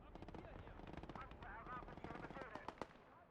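MG42 machine gun fire in the Gates of Hell: Ostfront WWII game, rapid bursts of shots rattling over a busy battle soundscape, with a voice talking underneath.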